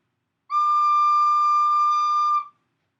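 Single recorder note blown gently, a clean, steady tone with bright overtones that starts abruptly, holds for about two seconds and stops, alone in silence.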